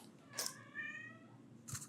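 A house cat heard faintly at close range, giving a soft harmonic meow between small crunchy clicks that sound like chewing or biting.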